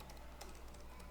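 Computer keyboard typing, a short burst of light key clicks at a steady close level, with no voice over it.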